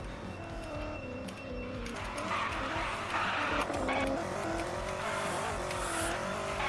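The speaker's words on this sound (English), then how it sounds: "Tires screeching all over the place. It's losing grip, losing traction, losing everything" A tuned Jeep Trackhawk on a race track squeals its tires continuously as it loses traction, with the engine revving underneath and the screech growing louder and rougher partway through.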